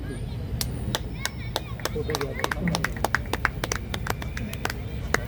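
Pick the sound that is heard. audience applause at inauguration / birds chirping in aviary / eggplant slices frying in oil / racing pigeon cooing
audience applause at inauguration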